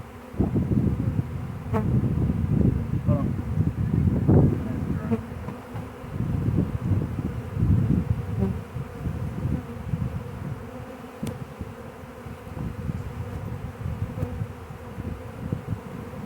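A honey bee swarm at a ball field fills the air with dense, continuous buzzing from many bees, loud at first and easing slightly, with a few brief faint knocks and no talk.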